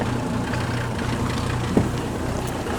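A Mercedes-Benz W126 300SD turbo diesel engine, restarted after ten years, idles with a low, uneven rough rumble, running continuously and steadily loud with no voices over it.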